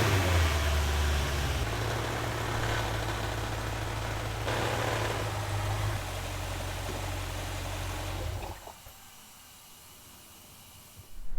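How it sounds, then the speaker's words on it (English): Audi S6 4.0T V8 idles with a steady low rumble under a broad, loud hiss from a faulty PCV system, until the engine shuts off near the end and only faint hiss remains. "there's a very loud hissing sound coming from the car, and I'm pretty sure that's the PCV"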